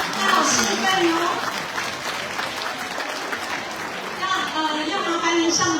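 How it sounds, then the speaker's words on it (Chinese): A banquet audience at a Foreign Affairs Ministry dinner applauds steadily and loudly for the whole stretch, dense clapping filling the room, with a voice occasionally rising over it. "请让我们支持他，拍手大声一点哦"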